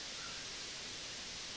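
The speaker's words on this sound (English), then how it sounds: "you've got our left and right audio channel, the white noise" Steady stereo white noise test signal feeding the left and right channels, a constant broadband hiss at moderate level that runs unchanged and alone throughout.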